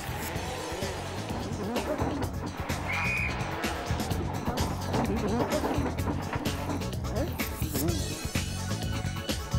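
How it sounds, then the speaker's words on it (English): A WRC rally car racing on snow in Sweden in 2003 on special tyres, its engine surging and tyres hissing across the snowy stage, partly masked by a voice and other busy background sound. "Driving on snow in Sweden demands special tyres and a very special skill."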